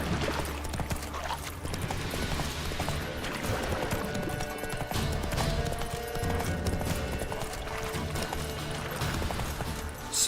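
Roach, a horse in The Witcher video game, gallops in a steady clip-clop rhythm that holds for the whole stretch. The hoofbeats sit under a dense bed of game music and ambience and stay at an even loudness.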